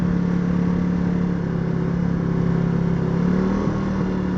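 Small motorcycle engine held at a steady, high idle with a constant mid-pitched drone, close and continuous, with no voices.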